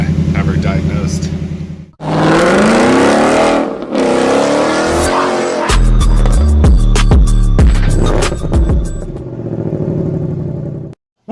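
A 2018 Ford Mustang GT V8 with a ticking engine fault cold-starting: a starter crank, then a loud roar that settles into a deep, throbbing, uneven high idle, heard up close while someone talks.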